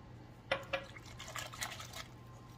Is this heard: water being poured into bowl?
yes